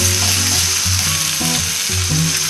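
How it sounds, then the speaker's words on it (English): Steak searing in a hot pan gives a loud, steady sizzle and crackle throughout, with faint utensil clinks and no voices. "Now I'm going to flip this steak and let that sear, okay?"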